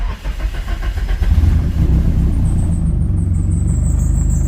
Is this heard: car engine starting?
yes